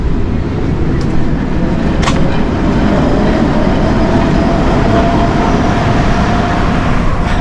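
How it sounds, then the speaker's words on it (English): Tram rolling along a street in Rome, a steady loud rumble of wheels and traffic filling the whole stretch, with faint rail clatter and no clear voices. "Try not to get run down by trams, or mainly trams."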